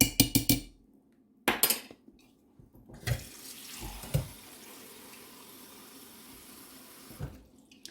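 Tap water pours into a paper pulp mixture for handmade paper, starting with a few sharp clatters, then a steady splashing stream that runs for several seconds before stopping.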